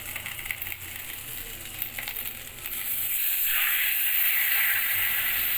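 Turmeric and chili spice paste fries with a splash of water in a pan for rohu fish curry with cauliflower and potato, sending up a steady close hiss that swells louder and brighter halfway through; no talking.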